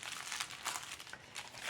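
Soft crinkling of paper folded by hand for a scrapbook project, faint and close, a short run of light rustles with a few slightly sharper creases.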